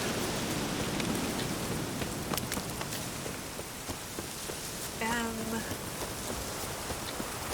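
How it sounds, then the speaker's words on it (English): Rain pours steadily in The Witcher 3, a constant hiss of drops near the listener, with a brief creaking or chirping sound partway through. "It's raining again."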